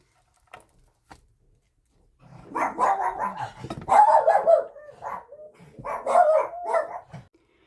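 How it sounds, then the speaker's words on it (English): Several dogs bark at someone at the door: a couple of faint early yips, then loud, rapid, overlapping barking in bursts that fade briefly and return. "Somebody came to the door selling something, and the dogs went off."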